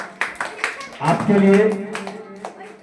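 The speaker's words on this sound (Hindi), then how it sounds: "एक बार जोरदार तालियां" An audience claps to celebrate a student's exam success, with a burst of applause building and thinning over a few seconds while a voice speaks briefly over it.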